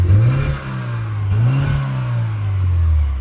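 A 1987 Rover 820 E twin cam engine, running rich, revs up and down in a few smooth swells, its close, loud note rising and falling between brief settles back toward idle.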